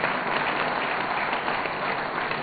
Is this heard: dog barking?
no